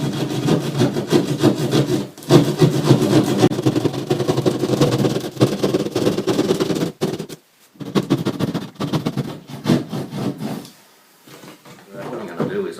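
A handsaw with a sharp pointed tip cuts a patch out of plasterboard with timber behind it, giving steady rasping strokes close up that pause briefly now and then, with a person talking over parts of the cutting.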